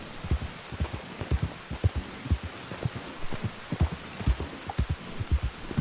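Rain in the open world of Red Dead Redemption 2, a steady soft patter with low, regular thumping drops running throughout, fairly quiet and with no voices.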